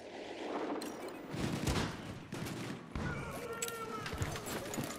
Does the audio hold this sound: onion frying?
no